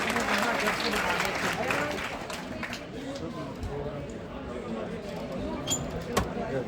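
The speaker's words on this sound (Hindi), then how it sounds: "जोरदार तालियां" Audience applause at a Rajasthani ghoomar program, moderate clapping spread through a hall with background chatter and voices mixed in, fading somewhat midway then continuing.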